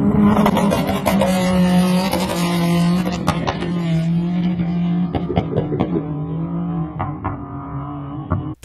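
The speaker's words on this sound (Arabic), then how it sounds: "طبعا راعي الهيلوكس جاي على سرعة عالية" A Toyota Hilux roars along a road at high speed, its engine note droning and shifting in pitch amid sharp knocks and rattles, loud at first and slowly fading.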